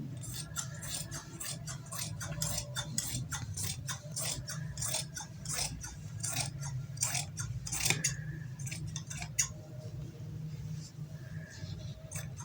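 Scissors snip through fabric for an umbrella frock in quick, crisp repeated cuts, a steady run of sharp clicks up close that thins out toward the end over a low hum.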